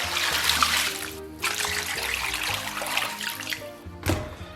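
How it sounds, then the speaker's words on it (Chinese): Tap water running in a kitchen sink while pork ribs are washed: a steady, close trickle and splash with faint clunks of handling, continuous for about four and a half seconds, no talking. "咱们先把排骨给它洗一下"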